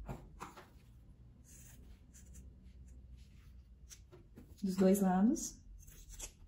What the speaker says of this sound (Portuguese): Agora eu vou recortar aqui a minha caixinha de leite.